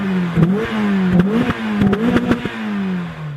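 A Mazda MX-5 with a custom AMA exhaust running from head to muffler revs hard in repeated bursts, its rasping engine note climbing and falling close by, with sharp crackles and clatter between blips.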